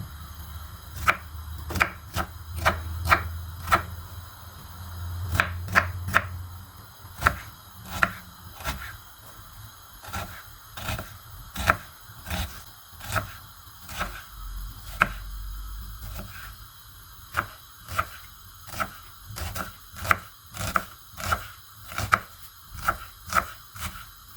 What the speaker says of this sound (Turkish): Biberleri haşlanırken soğanlarımızı da doğrayalım.